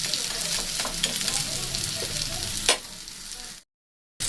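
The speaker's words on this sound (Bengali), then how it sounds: "দুটো সাইডই কিন্তু খুব সুন্দর করে ভাজা হয়ে গেছে" Masala-coated fish frying in a pan, a steady loud sizzle with a few sharper crackles, running continuously before cutting to brief silence near the end.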